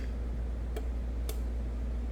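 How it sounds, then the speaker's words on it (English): Two small, crisp clicks about half a second apart from a universal Chamberlain 045ACT garage door remote button, heard over a constant low hum. "You'll hear a couple of clicks in the remote."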